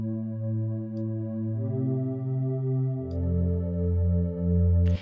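A soft synth pad made in Logic Pro holds sustained, smooth layered chords that change pitch a few times, steady and alone with no talk.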